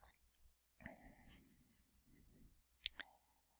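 A faint single mouse click on the Import button in the WP Stagecoach WordPress plugin, a brief sharp tick in an otherwise quiet room with soft breathy background noise.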